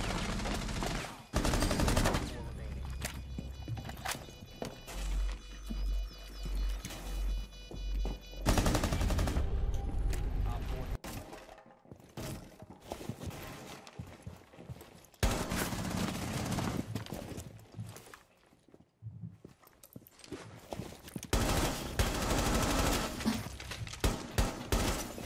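A Rainbow Six Siege gunfight fills the space with loud bursts of automatic fire and single shots. Rapid volleys come in clusters broken by short quiet gaps, with a few faint voices now and then.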